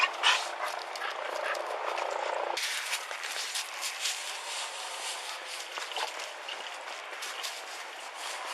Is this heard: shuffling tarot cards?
no